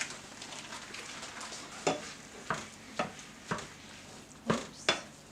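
Garlic and butter frying in a pan, a soft steady sizzle broken by a series of sharp scraping and clinking strokes as a utensil stirs the pan, six or seven distinct stirs spread across the stretch.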